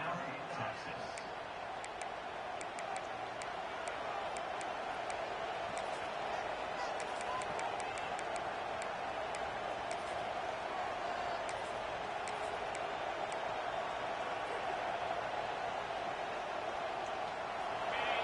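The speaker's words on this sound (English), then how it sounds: "This crowd bringing an ear-splitting welcome to their visitors." Steady crowd roar at a football game, the home stands giving the visiting team a loud welcome, with sharp thuds and claps scattered through a constant wash of noise.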